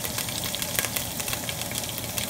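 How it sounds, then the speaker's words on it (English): White cumin seeds fry in oil with a dense, constant sizzle close up, even and unbroken throughout with no voices. "And then fry it for 30 to 40 seconds."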